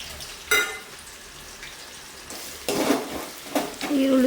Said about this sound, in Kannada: ಚೆನ್ನಾಗಿ ಫ್ರೈ ಆಗಬೇಕು ಒಂದು ಸ್ವಲ್ಪ ಲೈಟ್ ಬ್ರೌನ್ ಕಲರ್ ಬರೋ ತನಕ ಫ್ರೈ ಮಾಡ್ಕೋಬೇಕು